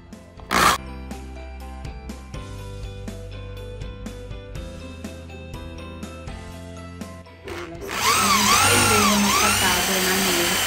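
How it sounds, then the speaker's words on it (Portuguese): A power drill fitted with a flat spade bit bores a hole through scrap wood, a loud, steady whirring grind that starts abruptly near the end and continues over background music with a rhythmic beat. "A gente vai usar essa broca aí, que é tipo uma broca chata, pra fazer esse furo."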